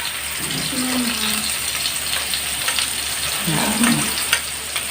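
Tomatoes fry in a pan for a Filipino ginataang pakbet, giving a steady close sizzle with brief stirring scrapes and no talk over it.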